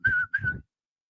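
A person whistles a short tune live in a radio studio, two clear sustained notes in quick succession, loud and close, with no talking over it.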